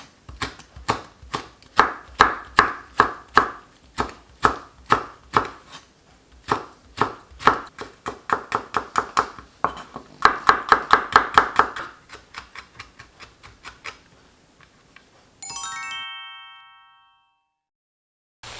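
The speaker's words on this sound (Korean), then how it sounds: "청양고추 어슷 썰어주세요." Rapid rhythmic knife chops slicing Cheongyang chili peppers diagonally on a cutting board, dozens of crisp strikes in bursts, ending with a bright ringing chime.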